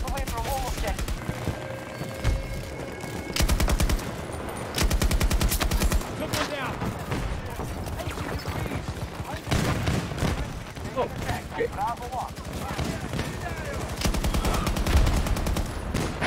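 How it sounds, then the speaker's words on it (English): Rapid bursts of automatic gunfire crackle loudly and repeatedly in a Battlefield 2042 match as the player comes under fire, with sharp volleys recurring throughout. "Someone shooting me."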